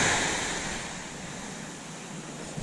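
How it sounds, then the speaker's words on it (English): Big sea waves break on a flat sandy beach in Dorset, a loud rushing surge at the start that slowly fades into a continuous hiss of foam and wind, with no talking. "There's a couple of big waves coming in here, people."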